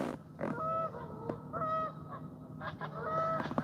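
Repeated goose honks sound out in several short bursts, moderately close, with no talking.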